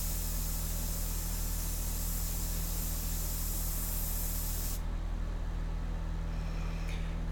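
An airbrush sprays India ink onto a portrait in a continuous close hiss of air, steady and even, cutting off near the end and leaving a low background hum, with no one talking.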